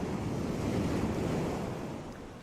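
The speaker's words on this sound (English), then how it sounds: "Listen to the sea." Steady roar of sea surf washing in on a coastal shore, a dense continuous wash of waves with some wind, fairly close and loud, no voices.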